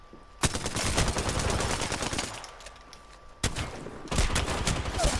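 Rapid automatic gunfire in Apex Legends, loud and close, with dense bursts of shots running almost continuously, a brief pause, then more sustained firing.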